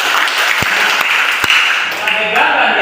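Classroom applause during a school lesson on vaccination and preventing the coronavirus, a steady dense clapping from a group of students filling the room, with a few sharper claps and faint voices mixed in.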